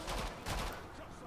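Gunfire in the video game Killing Floor 2: two quick loud bursts of rapid shots close together, then fading into a rumbling background, with a voice talking over it.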